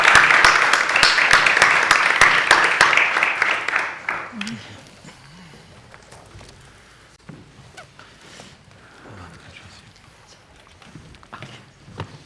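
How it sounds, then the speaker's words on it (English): A crowd claps loudly for a few seconds, then the applause dies away into quiet shuffling and murmurs. "Let's give our speakers a round of applause."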